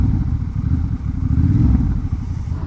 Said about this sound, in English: Yeah, you really just want to keep blipping it.